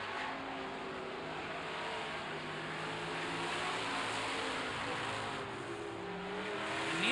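A super truck racing engine powers down the back straightaway during a heat race, a steady distant roar that builds slightly as the truck carries on, heard through crowd and track ambience.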